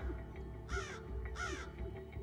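Young crows give two loud, harsh caws about a second apart, close by, over a low steady background rumble.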